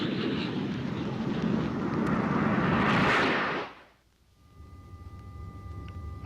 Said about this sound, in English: Within minutes of the alert, Air National Guard jets are aloft in support of the Air Force mission.